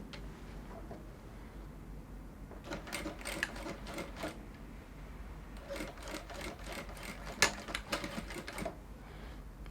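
A sewing machine stitches fabric for a corset dress, set to dial 5, in light, rapid clattering bursts that start and stop over a low background hum, fairly quiet and close.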